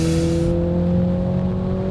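Toyota Supra with a 2.0-liter four-cylinder engine accelerating in manual mode, a steady droning engine note with low rumble and road noise, heard close from inside the car for about two seconds, no talk.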